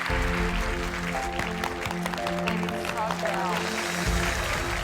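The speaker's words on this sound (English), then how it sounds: "Keep the applause going for Harrison, who has just secured himself a berth in the grand final." A spelling bee audience applauds a contestant, a continuous wash of clapping under music and a presenter's voice.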